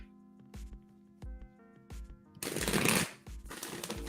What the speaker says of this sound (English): Nyla, as I'm shuffling, I see the 10 of Cups.